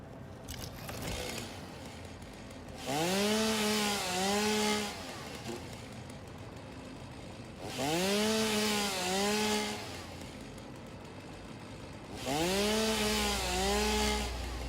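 A chainsaw cuts through plants in the video game Satisfactory, revving up in three separate bursts of a couple of seconds each, with quieter gaps between them and no talking.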